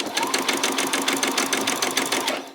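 A sewing machine back stitches on fabric with a fast, even mechanical chatter of rapid needle strokes, loud and close for a couple of seconds before tapering off.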